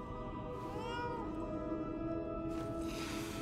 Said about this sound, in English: Is that a kitty cat?